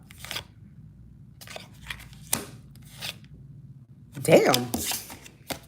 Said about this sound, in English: Maybe I'm not shuffling these right